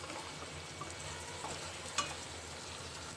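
Cabbage Manchurian gravy being mixed in a pan, a soft continuous sizzle with quiet stirring and one brief clink of a utensil, close and low in level, no voices.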